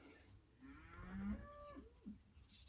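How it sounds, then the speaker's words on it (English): Hungry cows moo in drawn-out, wavering calls, a couple of overlapping low bellows at moderate distance over faint background noise. "I think cows are hungry."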